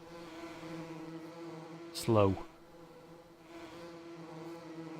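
Bees in a farming video game hum with a steady low drone under a man's speech, broken by a brief louder buzzing swell partway through.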